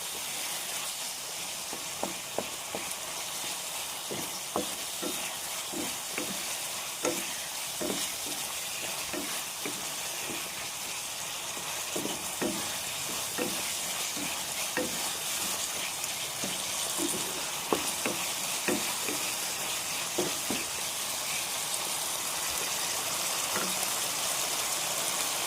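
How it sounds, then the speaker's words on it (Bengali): Tomato and spices fry in mustard oil for a pabda fish curry, a steady close sizzle throughout with repeated scrapes and clicks of stirring and no voices. "একটু ভাজা ভাজা করতে হবে টমেটোটাকে, টমেটো আর মশলাটা।"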